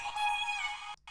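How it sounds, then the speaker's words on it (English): A short vocal chop lifted from the original chorus and pitched up an octave, a bright sustained sung tone that holds steady, then cuts off abruptly, followed by a brief loud thump at the end. "I've also got these vocal chops that I'm using throughout"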